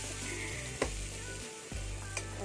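Onion and garlic fry in oil in a pan with a gentle steady sizzle, close and quiet, with a couple of soft utensil clicks, and no voices.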